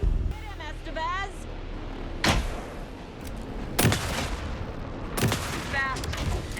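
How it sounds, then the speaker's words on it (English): Gunfire in the video game Alan Wake 2 comes as several loud, sharp shots spaced a second or two apart over a dense background of combat noise, with voices talking during the fight. "Anderson, pin him down with gunfire for me to get the light on him."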